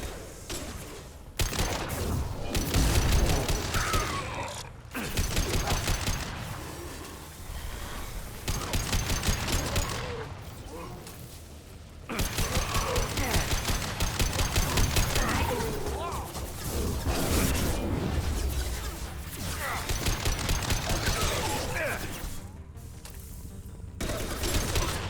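A heavy weapon in Mass Effect 2 fires in loud sustained bursts, rapid automatic volleys and crashing impacts that come in several long waves separated by brief lulls.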